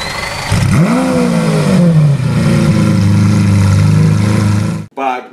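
A Lamborghini Huracán engine fires up and revs hard, then holds a loud, rumbling high idle for several seconds before cutting off, close and dominant.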